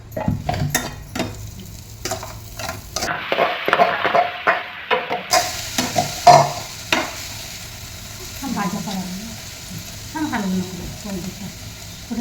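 Capsicum, onion and tomato sauté in a pan: a soft sizzle under repeated scraping and clinking of a spoon against metal, followed by a quieter stretch where people talk faintly.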